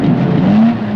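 A Class 7 off-road race truck roars through a night desert race at the Nissan 400, a loud, close, steady engine drone whose pitch climbs slightly over one second, with no voices.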